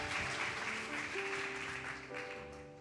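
Applause from a church congregation, soft and somewhat distant, a steady wash of clapping under sustained tonal music that runs throughout.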